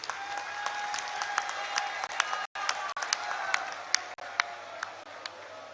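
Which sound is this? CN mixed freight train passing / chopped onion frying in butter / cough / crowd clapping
crowd clapping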